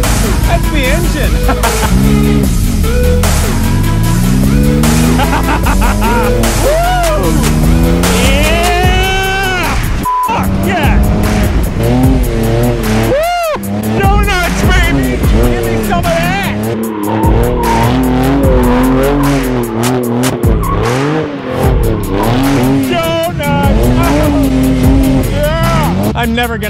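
Lykan Hypersport engine revving hard and continuously, its pitch sweeping up and down through repeated gear changes, with loud tire squeal throughout for nearly half a minute.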